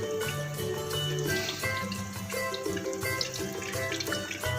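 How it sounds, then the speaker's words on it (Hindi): Small meatball koftas fry in oil with a steady, close bubbling sizzle that holds an even level throughout, with no voices. "ये ऐसा ऐसा हमारे कोफ्ते फ्राई हो रहे हैं"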